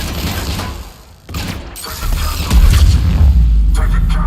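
Gunfire and heavy explosive booms in the video game Mass Effect on Omega, loud dense bursts with a brief lull before a deeper rumbling barrage builds up.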